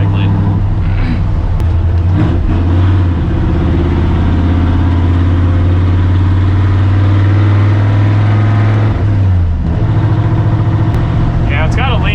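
High-compression Ford F100 engine running with a lean stumble, a steady low rumble with slight unevenness heard from on board; a voice talks over it now and then.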